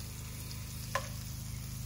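Garlic and spinach cooking together in a pan, giving a steady continuous sizzle with a brief utensil scrape partway through, close and fairly even in level.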